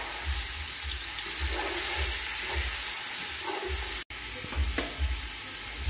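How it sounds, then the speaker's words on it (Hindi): Noodle ingredients with ginger-garlic paste sizzle and fry in a hot pan, a continuous close crackle broken by rhythmic stirring scrapes, with a sharp brief cut near the end and no talking. "और इसको एक दो मिनट फ्राइंग और भून लेंगे थोड़ा सा।"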